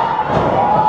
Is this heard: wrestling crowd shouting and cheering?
yes